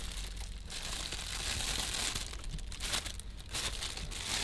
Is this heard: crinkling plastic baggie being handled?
yes